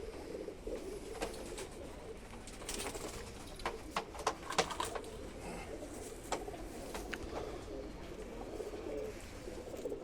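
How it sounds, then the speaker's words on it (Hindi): A fine pet pigeon coos softly and repeatedly, quiet and fairly close, over a low background hum with a few scattered light clicks. "लो जी एक बेहतरीन कबूतर का आपको शौक करा रहे हैं"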